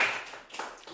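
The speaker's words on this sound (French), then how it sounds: "Une main d'applaudissement pour Karine." Brief applause for a performer named Karine, a short burst of clapping by a few people that fades quickly, fairly quiet and close.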